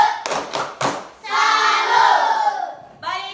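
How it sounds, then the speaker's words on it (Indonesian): An elementary school class does a rhythmic clapping routine: a few sharp bursts of hand claps, then children chant together loudly in unison, with a short burst of claps and voices at the close. "Tepuk tangan. Tepuk salut."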